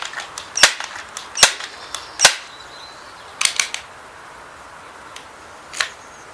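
Crosman M4-177 multi-pump .177 pellet air rifle firing, a series of sharp, sudden cracks spaced irregularly with faint pumping clicks between them, alone with no talk.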